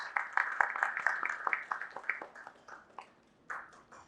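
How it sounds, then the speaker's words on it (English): A conference audience applauds a panelist with a burst of fairly close clapping that starts dense and thins out, pausing briefly before a last cluster of claps. "So please welcome Divya with a very huge round of applause."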